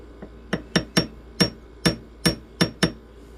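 A hammer taps metal on a mandrel, about nine sharp, ringing strikes in an uneven rhythm, close and loud with nothing else heard.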